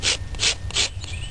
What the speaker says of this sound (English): I find it easier with this to just scrape it off and then remove the fibers once the stalk is all cleaned up.